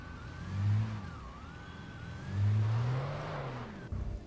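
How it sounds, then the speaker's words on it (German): A car engine in the video game Alan Wake hums steadily, swelling twice in low revving surges over a continuous whir, with no voices. "Der Motor summt so schön."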